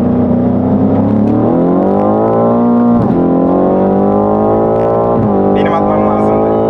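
A BMW F90 M5 engine roaring as it accelerates hard, pitch climbing steadily before a slightly late gear shift drops it, then climbing again and shifting once more, loud and close inside the car.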